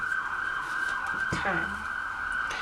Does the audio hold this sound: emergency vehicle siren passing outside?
yes